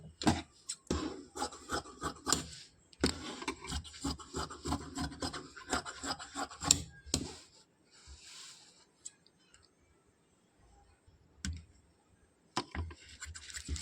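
Fabric being cut for a blouse, rasping snips and rubbing strokes in dense bursts up close, pausing briefly before more cutting near the end.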